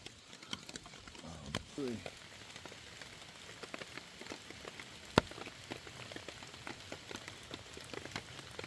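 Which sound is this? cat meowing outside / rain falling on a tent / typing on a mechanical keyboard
rain falling on a tent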